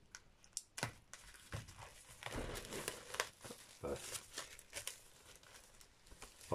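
Plastic packaging for a Mission Impossible 2 soundtrack by Hans Zimmer being torn and unwrapped, with close crinkling, tearing and rustling in uneven bursts throughout, and a few sharper snaps near the end.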